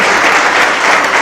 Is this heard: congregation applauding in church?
yes